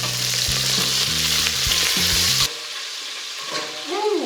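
Chorizo and chunky cut onions sizzle loudly in a hot pan as a soup base, with steady frying hiss and stirring scrapes, then the sound cuts to a quieter stretch.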